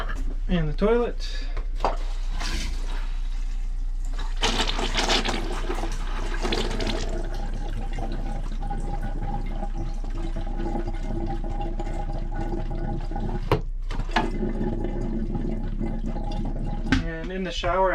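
A camper toilet on an E-Pro E20BHS travel trailer flushes during winterizing with antifreeze, a loud gurgling rush of liquid with pump and valve sounds, while a person talks intermittently nearby.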